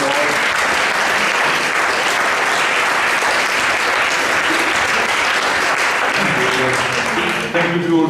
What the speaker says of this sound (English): Have a warm applause.